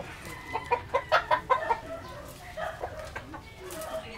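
A chicken clucks close by in a quick run of five or six sharp calls, then a few softer, scattered clucks follow over faint background noise.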